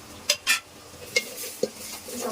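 Ginger, garlic and ground turmeric, chili, coriander and cumin are stirred in a pan for a Bengali dal dish, with a few sharp scraping clinks of a spatula and a soft sizzle beneath.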